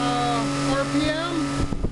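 A modified imperial DC motor coupled to a generator hums steadily at high speed, with a sustained whining tone and harmonics. Near the end there are a few brief knocks.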